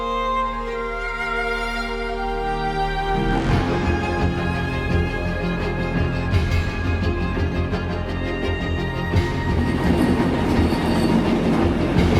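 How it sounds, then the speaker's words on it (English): A train moving through busy Glasgow Central Station, with a steady loud rumble, clattering wheels and a tonal hum that builds as it gets closer, all without talk. "once again in the Glasgow Central Station. It's very busy behind me"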